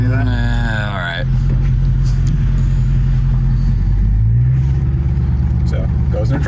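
A V6 rental Dodge Charger rebuilt into a Hellcat Redeye shifts into drive and pulls away, a loud steady low engine rumble filling the whole stretch with a slight rise in pitch near the end, and a voice briefly heard at the start.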